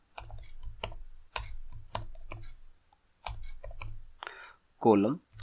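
Clicky computer keyboard keystrokes while CSS code is written, a burst of close, sharp taps in quick groups, followed by someone speaking briefly.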